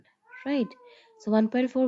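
A pet cat lets out a short meow, then a few more quick meows, close by and fairly clear, while someone speaks briefly during a physics exam walkthrough recorded indoors.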